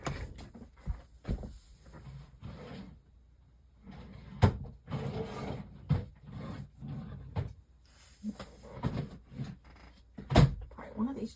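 Drawers opening, closing and being rummaged for paint supplies, with a series of irregular knocks, slides and rattles, some sharp and close, amid quiet rustling.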